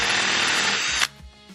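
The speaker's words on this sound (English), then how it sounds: "that's how you drill out your rivets" A power drill bores out a rivet on a Cobra front bumper bracket, whining loudly and steadily for about a second before cutting off sharply, followed by light clinks and handling noises.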